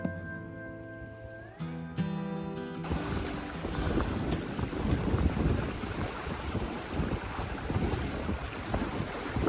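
A sailboat running at 7 knots, with steady rushing wind and water noise building after a few seconds of soft music at the start, continuous and fairly loud with gusty swells.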